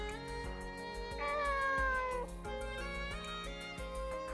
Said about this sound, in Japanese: この猫ちゃん、アーナスの戦いを見ている間にお友達になったの